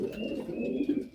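Pigeons in a loft coo close by in soft, low, repeated throaty phrases with no talking.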